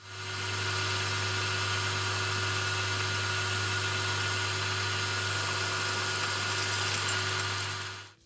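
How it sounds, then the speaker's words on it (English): A twist drill in a mill boring all the way through a metal tailstock die holder part, a steady droning whir with a constant low hum, close and uninterrupted, with no voices. "Over to a twist drill, and I'm just going to drill all the way through the part"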